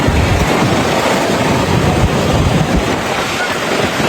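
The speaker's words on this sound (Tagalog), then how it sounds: "Mahangin guys." Strong wind at Tagaytay buffeting the microphone in a loud, steady rushing roar, close and continuous throughout.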